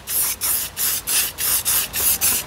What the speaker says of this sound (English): painting with spray bombs